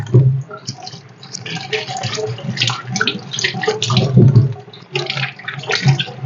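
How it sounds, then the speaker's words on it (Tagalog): Cassava roots being washed by hand in water to remove sand, with irregular splashing and sloshing bursts, close and fairly loud, and a voice heard briefly. "Huhugasan muna natin ang ating kamuting kahoy mga idol."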